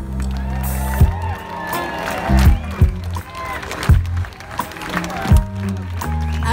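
Audience applause and scattered cheers at the Fountain Blues Festival for a band, rising and falling over low, thumping band music that keeps playing underneath.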